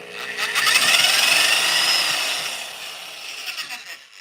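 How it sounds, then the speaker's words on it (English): An electric drill fitted with a paddle whirs loudly as it churns potting soil, a steady close-up buzzing rush that fades toward the end with faint scraping. "I've got this drill with the paddle on it"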